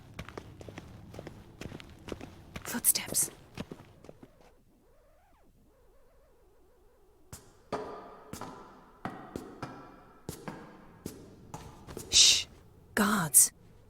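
Footsteps in The Witcher 3 video game, a run of soft, regular steps across the opening seconds, then heavier scuffs and thuds resuming later amid louder bursts, with a quiet stretch in between.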